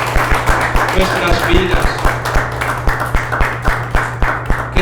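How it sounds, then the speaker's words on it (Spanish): A church congregation claps in a steady rhythmic beat for Christ Jesus, loud and close, under a man's amplified Spanish preaching and a sustained low hum. "¿Cuánto le da un fuerte aplauso a Cristo Jesús?"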